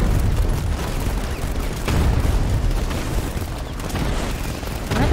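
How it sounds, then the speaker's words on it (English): Bombs exploding in Batman: Arkham Knight, a heavy barrage of booming blasts rolling one into the next, loud and close, with bigger hits standing out near the start, middle and end. "Where are the bombs coming from?"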